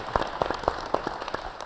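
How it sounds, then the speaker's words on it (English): Sparse applause from a small audience at a regional public safety panel discussion, with distinct individual claps landing in a loose, uneven rhythm over under two seconds. "But let's give Eric a round of applause"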